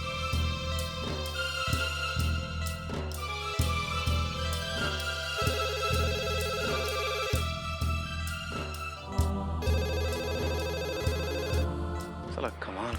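A telephone rings repeatedly on an outgoing call in a regular electronic pattern, loud and close, with bursts of tone repeating over music-like harmonic layers.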